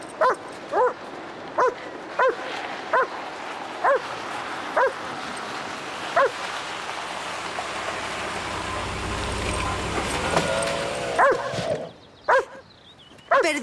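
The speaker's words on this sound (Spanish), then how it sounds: "¿podrías calmar al perro, por favor?" A dog barks in a steady series of sharp yips and bow-wows, loud and close, then whimpers and barks again after a brief lull, with faint traffic behind.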